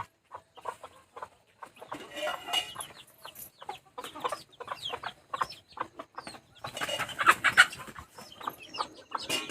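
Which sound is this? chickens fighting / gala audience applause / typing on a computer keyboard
chickens fighting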